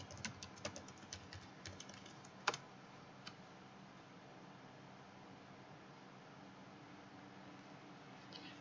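A run of light, quick keystrokes on a computer keyboard while entering a password for a Google account sign-in. Faint, close clicks bunch up in the first few seconds, with one sharper tap, then near silence.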